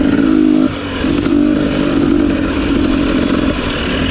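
A 2021 KTM 250 XC TPI two-stroke dirt bike being ridden, its engine buzzing loud and steady close by with a brief dip in revs, no voices over it.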